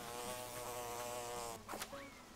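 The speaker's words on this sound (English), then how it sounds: "this bee is making me look like a fool." A bee buzzes in Animal Crossing: New Horizons, a steady droning hum that holds throughout, then a brief scuffle of game sounds near the end.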